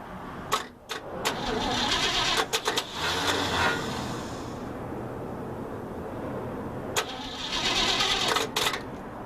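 A 1958 Chevy Napco 4x4 truck engine cranks and catches, a loud, continuous rough rumble broken by sharp clicks near the start and again toward the end.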